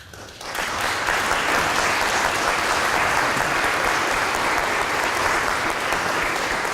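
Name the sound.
audience applause for mentors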